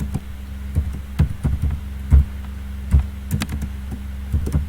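Typing on a computer keyboard: irregular, close key clicks and taps, about a dozen strokes scattered over a few seconds above a low steady hum, with no one talking.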